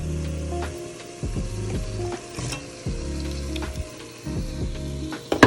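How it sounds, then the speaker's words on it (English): Okra goes into a hot gumbo pot with a loud burst of sizzling, followed by scraping and stirring clatter and a continuous fry that rises and falls, with no speech. "Let's go ahead and throw some okra in there too."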